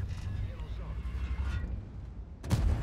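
A Kranvagn tank cannon fires in the World of Tanks video game as a single sharp, heavy boom near the end, following a low rumbling engine-like drone.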